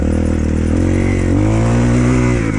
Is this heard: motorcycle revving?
yes